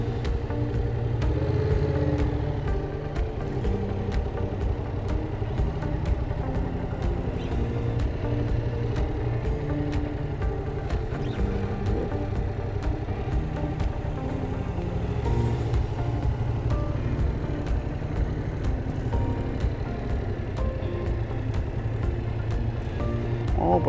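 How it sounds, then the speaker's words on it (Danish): A motorcycle rolls slowly through a slalom of cones during a Danish practical riding-test manoeuvre exercise, its engine holding a steady low drone with small throttle changes throughout, close and continuous. "Langsomt slalom gennem keglerækken her og hold helt stille med motorcyklen i balance."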